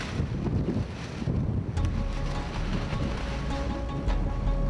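Strong gusts of wind buffet a high tower crane installation site, a continuous loud roaring rush with buffeting against the microphone and no voices.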